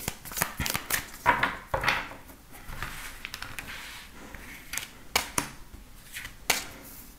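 Tarot cards are shuffled for a reading, giving a run of quick papery riffles and flicks in uneven bursts, fairly close and moderately quiet, with no voice.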